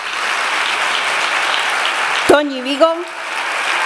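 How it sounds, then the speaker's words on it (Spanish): An audience at a documentary premiere gives sustained, dense applause, a steady wash of many hands clapping, briefly broken by a voice speaking over it. "todos os parece que les demos un fuerte aplauso"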